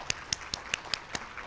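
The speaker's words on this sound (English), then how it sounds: "Another round of applause." Six faint, evenly spaced hand claps from a small audience at a talk on sleep in Parkinson's disease, crisp and sparse rather than a full ovation.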